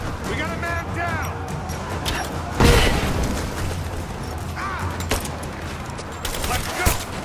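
Gunfire in the Rise of the Tomb Raider video game, with bursts of rapid shots and one heavy blast in the middle of the clip. Voices shout over the firing throughout.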